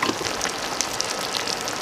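Chicharrones simmer in a red salsa, making a soft, continuous bubbling sizzle with small pops scattered through it, close by and unbroken, with no one speaking.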